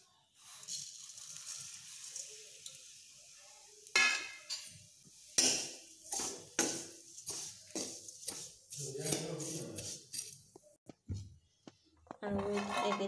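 Vermicelli fries in ghee in a wok: utensils clatter and scrape against the pan in repeated sharp strokes over a soft, steady sizzle, close by and moderately quiet.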